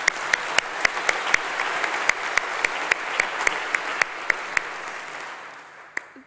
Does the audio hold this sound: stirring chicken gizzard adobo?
no